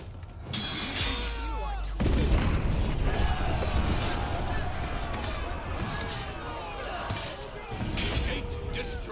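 A castle gate is smashed in the game For Honor: heavy booming impacts and rumbling crashes pile up amid battle noise and shouting voices, growing dense after the first couple of seconds and staying loud throughout.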